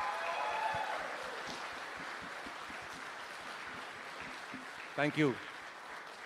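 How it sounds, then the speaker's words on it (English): An audience applauds at the unveiling of Ola's Krutrim AI, a dense wash of clapping that fades out over the first seconds, followed by a quiet stretch and a brief spoken phrase near the end. "can we have a huge round of applause for Krutrim?"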